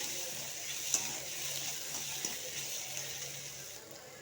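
Chopped onion and a single green chilli sauté in a pan, a faint, steady sizzle with a couple of soft stirring taps.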